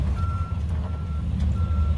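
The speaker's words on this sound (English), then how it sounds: "The worker backs the lime slurry truck up and gets it ready to unload" A lime slurry truck backs up with its reversing alarm sounding steady spaced beeps over a low engine rumble, heard at close range.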